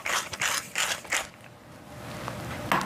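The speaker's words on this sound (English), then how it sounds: "And some freshly ground black pepper right on top." A pepper mill cracks freshly ground black pepper over a fennel puree in a home kitchen, giving several short bursts of gritty ratcheting grinding, close and crisp, followed by a quieter pause with faint clicks.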